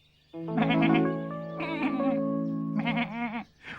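Baby goat bleating several times in a row, wavering cries that rise and fall, close and fairly loud with no talk over them.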